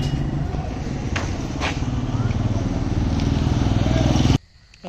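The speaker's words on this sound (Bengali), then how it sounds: "মোটরসাইকেল পাশে দূরে যাও" A motorcycle passing nearby at night, a loud, close engine drone with rumbling low tones that holds steady and then cuts off abruptly near the end.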